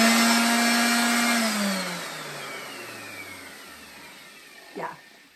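A DeWALT sander with a worn hook-and-loop pad runs with a high whine, then winds down steadily in pitch as it coasts to a stop, followed by a short scraping rattle near the end.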